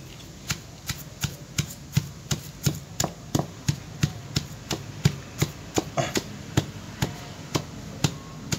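Chinese betel (sirih cina) leaves being pounded by hand in a bucket to make liquid fertilizer: a steady run of close, sharp thuds, about two per second, with no talking.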